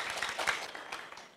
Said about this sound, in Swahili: Piga makofi kwa sisi